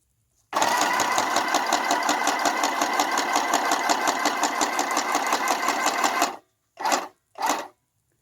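Sewing machine stitching a lace tag onto a card, a steady close mechanical whir with fast rhythmic needle clatter running for about six seconds, followed by two short separate bursts.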